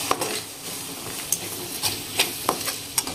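A spoon stirs a turmeric and chili powder mixture in a pan, making a few soft scraping taps at an irregular rhythm over a faint background hiss, close and fairly quiet, with no talking.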